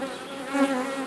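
Honeybees at a mountain apiary hive make a steady, dense buzzing hum, close and continuous for a brief moment with no voices.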